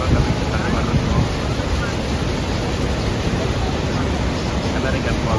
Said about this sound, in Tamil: இந்த நயகரா ஃபால்ஸ் கொட்டுற இடம் இந்த மாதிரி ஒரு நம்ம லைஃப்பில் பார்த்துக்க முடியாது